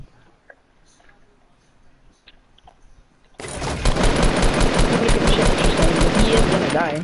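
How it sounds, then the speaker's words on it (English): Video game gunfire bursts in abruptly after quiet stretches with faint sounds, then rapid automatic fire rattles loudly and continuously for several seconds. "What are you shooting at?"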